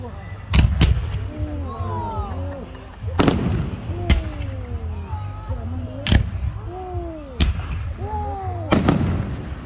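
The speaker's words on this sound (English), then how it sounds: "I'm not gonna stop recording until I get every single footage of the fireworks!" New Year fireworks at Loch Sport explode in repeated loud, sharp booms every second or two, some coming in quick pairs, with whistling and crackling between blasts and people cheering and shouting nearby.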